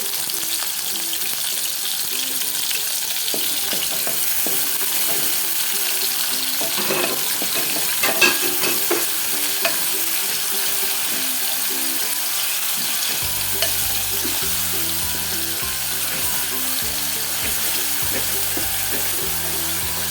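Shrimp fry in oil in a pan, a steady close sizzle with occasional stirring scrapes running throughout, plus a low rhythmic background hum toward the end and no talk.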